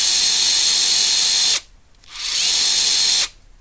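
A Draper Expert 3/4 inch brushless impact wrench runs on its second power setting in two steady, loud bursts of about a second and a half each, stopping abruptly with a short gap between them.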